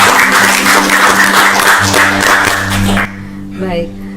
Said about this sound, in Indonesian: Wah, luar biasa, tepuk tangan dulu dong.